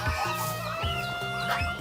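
A dense chorus of forty to fifty ducklings peeping and cheeping nonstop nearby, with repeated high chirps overlapping.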